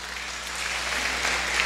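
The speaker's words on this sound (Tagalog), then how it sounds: "Palakpak." A Sunday church congregation clapping together, a brief steady wash of many hands at moderate loudness with no voices on top.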